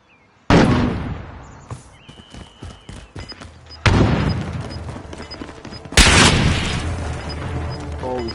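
Heavy gunfire in a PS4 shooter: three loud booming bursts, each followed by rapid rattling shots and echoing decay, close and dominant with little talk.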